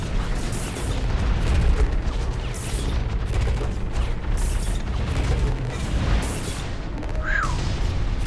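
Heavy explosive booms from a heat cannon in the Hawken mech video game, fired like tank shells with a wide blast radius: repeated thuds over a constant rumbling mechanical din, loud and near.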